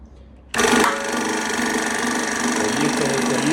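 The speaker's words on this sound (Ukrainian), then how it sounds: "вимикач на маслостанції. І маслостанція зараз автоматично підніметься до 55 мегапаскаль" A hydraulic oil pump station for a 50-ton press switches on abruptly after a short quiet moment, then holds a loud, steady mechanical hum with a buzzing whine.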